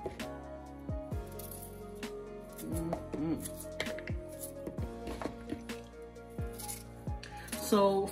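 Coconut being cut into cubes for a Jamaican salt mackerel rundown, with close, irregular knife knocks on a board over several seconds and some soft clatter and squishy handling sounds in between.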